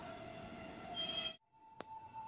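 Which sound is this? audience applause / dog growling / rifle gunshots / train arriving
train arriving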